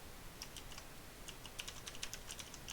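Fast, irregular clicking of computer keyboard keys while text is entered into a web page editor, close and fairly quiet over a steady background hiss, with no voices.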